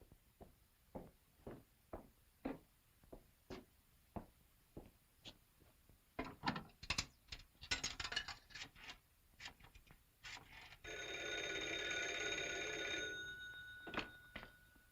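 An old 1940s telephone is dialed: a series of soft, evenly spaced clicks and rattles, then a brief ringing burst before a few final clicks, all quiet with no talk.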